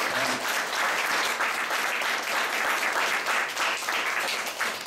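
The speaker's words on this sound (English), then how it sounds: "And yes, a big round of applause." An audience gives a big round of applause after volunteers are thanked, dense continuous clapping at steady loudness throughout.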